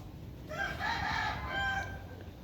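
A Thai fighting rooster lets out a single loud, drawn-out crow close by, rising and trailing off over a low background rumble.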